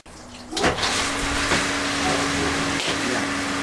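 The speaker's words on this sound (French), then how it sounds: "Et nous allons donc rallumer la filtration." A sand filter pool pump kicks back on in backwash position, water rushing and surging through the pipes after a brief start, then settling into a steady, close, continuous hiss and hum.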